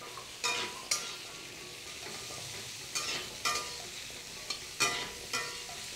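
Chopped pumpkin tossed into hot oil with green chillies for a pumpkin palya, soft steady sizzling with a few sharp bursts and spatula scrapes at irregular intervals, close and moderately quiet, no voices.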